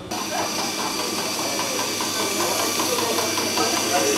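Knife polishing machine in a cutlery workshop in Thiers runs as a loud, steady whirring hiss throughout, with a person talking over it.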